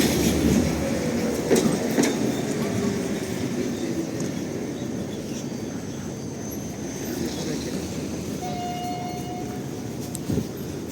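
A route 3 tram rolls along a street in Lviv, rumbling and clattering over rail joints with a brief wheel squeal near the end, moderately close amid general street noise, with a voice talking briefly.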